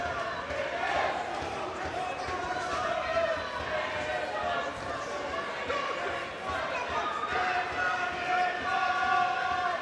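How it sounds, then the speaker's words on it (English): Boxing crowd at York Hall roaring and cheering throughout, a dense, steady wall of voices backing a fight for a young boxer from Gravesend, with commentary over the top. "Listen to the crowd now, they absolutely love him"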